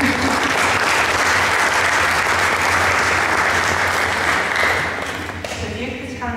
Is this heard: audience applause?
yes